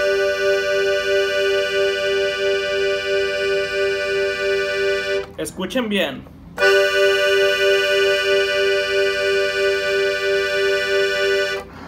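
Button accordion tuned in G holds a loud sustained chord with steady reedy harmonics, broken midway by a brief pause and a short spoken phrase, then resuming the same held tone.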